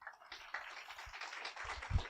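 Applause from an audience at an economics lecture, a soft, fairly distant spread of clapping hands with scattered individual claps and a low thump near the end.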